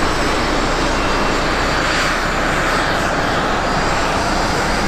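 Steady, loud roar of a fixed-wing airplane engine at an airport fire station, a broad continuous drone that holds without pause, no voices.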